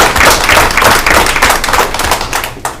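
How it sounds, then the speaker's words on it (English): A room at a school board meeting breaks into applause for teachers, with dense, loud, steady clapping from many hands close to the microphone and no talking over it. "So I think they deserve a round of applause before we even get started."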